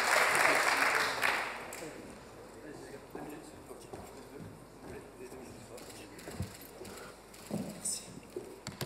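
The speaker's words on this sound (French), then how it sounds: "un tonnerre d'applaudissements également" Applause from an audience at the final of a startup contest, a brief loud burst at the start that fades quickly into quieter room noise with scattered claps and murmurs.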